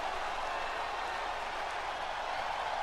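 Arena crowd in the WWE 2K20 wrestling game, set in Texas, cheering and applauding in a dense, steady roar that holds at an even loudness from start to finish, with no voices standing out.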